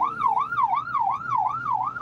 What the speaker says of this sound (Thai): หลบหลบให้ทางรถก่อนนี่รถไซเรนมานะ